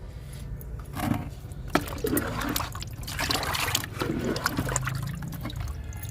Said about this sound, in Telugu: లిక్విడ్ ఇస్తున్నాను డబ్బాలో కూడా పోస్తున్నా